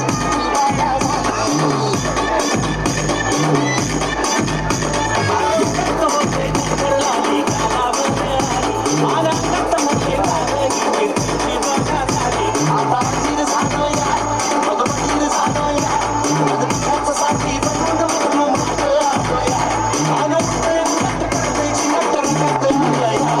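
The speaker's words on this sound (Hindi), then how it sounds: "जोरदार तालियां" Loud applause from a crowd at a cricket final prize ceremony, steady dense clapping filling the whole stretch with crowd murmur underneath.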